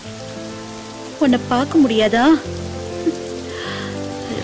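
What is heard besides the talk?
rain falling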